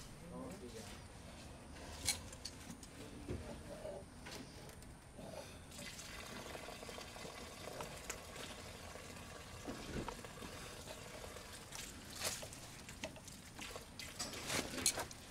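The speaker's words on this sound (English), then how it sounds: "the water that you hear running is from the house next door" Water runs continuously from a tap next door where a painter is rinsing brushes, a faint steady hiss and trickle with occasional splashes, heard from a distance through a quiet indoor space.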